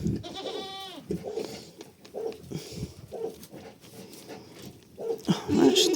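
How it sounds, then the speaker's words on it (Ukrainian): Young goats at a farm feed and drink, with a near bleat at the start and scattered munching, shuffling and small bumps, then louder knocking and movement at the end, under light background noise. "Їдять, п'ють мої козенята"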